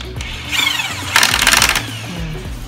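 A power drill countersinks a screw head into wood, whirring up in short close bursts, one brief and one longer run, against a background of low ambient noise.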